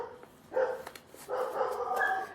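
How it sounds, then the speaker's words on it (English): Several dogs bark in a few quick bursts, loud and close by in a home, with yappy, uneven barks and no talking. "I don't know why they're barking"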